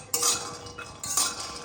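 Peanuts being fried and stirred in a kadai in a home kitchen: two distinct metallic scrapes of a spatula against the pan, close and crisp, separated by a short pause.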